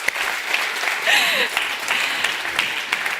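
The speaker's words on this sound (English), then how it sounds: "One round of applause." Conference audience at a food sovereignty event in Rotterdam gives a short burst of applause, moderately loud in a hall, with a brief voice over it.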